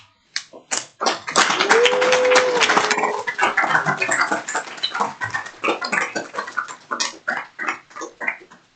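A crowd claps and cheers, applause swelling loudly at first then thinning into scattered individual claps, with a brief whoop or whistle early on.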